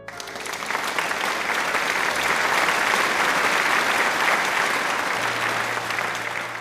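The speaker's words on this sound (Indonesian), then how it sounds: "kepada teman-teman dipersilakan untuk memberikan tepuk tangan kepada Kak Reza dan Kak Amanda" Sustained applause from a crowd at a high school graduation farewell ceremony, steady and loud throughout, clapping blending into a dense wash of sound.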